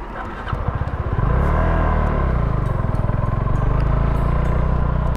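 A Suzuki V-Strom 250 motorcycle accelerates uphill on a mountain trail, its engine rising from a low idle into a loud, sustained throaty rumble close by, with no talk over it.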